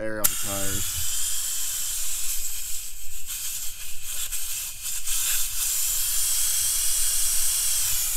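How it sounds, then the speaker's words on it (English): Air hissing from a Jeep tire through a screw-on tire deflator, a steady broad hiss held for several seconds after a short ratcheting click at the start, close and moderately loud. "This is one of my tire inflator or deflator things from my Jeep. Pretty good way to let air out the tires."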